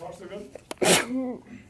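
A single sharp sneeze bursts out in a classroom physics lecture, loud and close, following a few spoken words.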